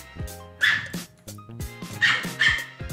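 A person imitates a dog with voiced barks: about five short, strained 'woof' calls in uneven pairs, close and fairly loud, with brief pauses between them.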